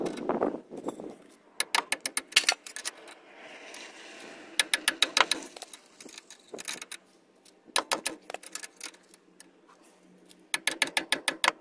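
A ratcheting wrench works on the sway bar link of a 2003–2008 Toyota Corolla Matrix, giving repeated bursts of rapid, crisp clicking close by, separated by quieter handling noises.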